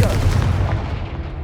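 A Confringo blasting spell explodes in the Hogwarts Legacy video game, a single loud booming blast that rumbles low and fades away over about a second.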